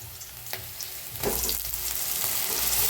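Green chili, garlic and moth bean dal roasting in a pan, a close, steady sizzle that grows louder and denser partway through, with occasional scrapes of stirring.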